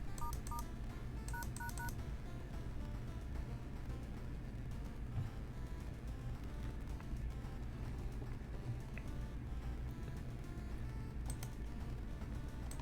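Phone dialing tones in the video game World of Horror: a few quick clusters of short beeps, sparse and fairly faint over a low steady background hum.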